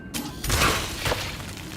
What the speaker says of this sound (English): Not very exciting explosion, but yeah, they're acid pus.